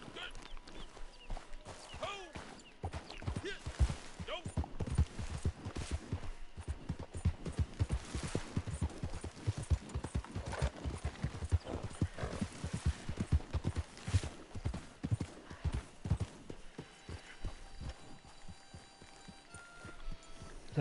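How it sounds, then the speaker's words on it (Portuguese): Horse hooves clip-clopping in Red Dead Redemption 2, a rapid irregular run of hoofbeats with game ambience behind, steady over twenty seconds at moderate volume. "Vamos, cavalinho."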